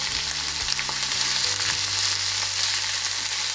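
Turmeric dropped into hot oil in a pan before frying small fish, village style, producing a steady, close frying sizzle with a brief stirring rustle and no talk.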